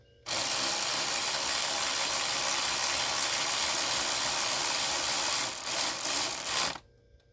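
A ratchet with an extension runs bolts down during a nitro RC tune-up, a steady rapid clicking close to the mic for about six seconds, then stopping abruptly.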